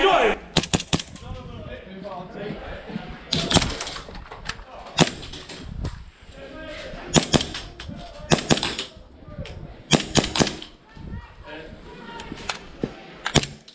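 Airsoft guns firing during a skirmish game, with sharp cracking shots in irregular single pops and short bursts, some near and loud, mixed with shouts and talk between players.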